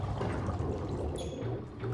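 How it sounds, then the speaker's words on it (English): A water pumping station runs in SimCity, a short burst of gurgling, pouring water heard fairly softly on its own. "Water pumping station."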